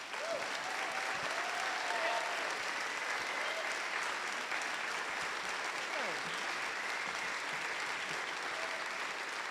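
An audience applauds after a talk at Liberty Hall in Lawrence, Kansas, steady sustained clapping filling the hall at a moderate distance, with scattered faint whoops and no clear speech over it.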